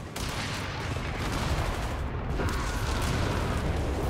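A zeroing artillery barrage pounds an enemy infantry blob in a 2v2 Company of Heroes 3 match, a dense, continuous roar of overlapping explosions and gunfire-like blasts that swells slightly louder toward the end.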